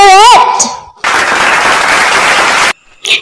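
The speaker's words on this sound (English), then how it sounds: "Give yourselves 5 million claps" Applause sound effect bursting in as a dense, loud wash of clapping for about two seconds, cutting off abruptly, with a brief processed voice-like sweep before it and a short tail after.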